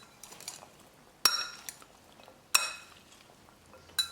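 A spoon mixes fruit chaat with chaat masala in a bowl, giving a few sharp clinks against the bowl separated by quiet gaps, close and faint otherwise.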